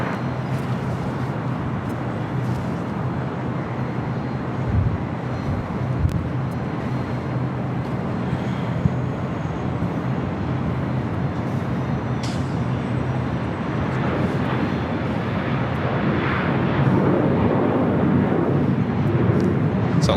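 Jet aircraft taxiing at LAX airport, a steady broadband engine rumble and whine that holds throughout and swells slightly toward the end, with faint distant traffic-like noise underneath.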